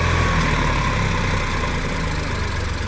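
Tempo truck engine stuck in a muddy field with a damaged engine, a loud steady close drone of the motor running hard throughout, no voices over it.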